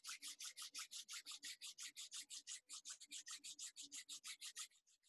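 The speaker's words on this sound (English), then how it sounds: "So we're gonna start by rubbing our palms together." Palms rub briskly together in a steady back-and-forth rhythm, roughly two dozen close, soft swishing strokes that slow and fade near the end, with no voices.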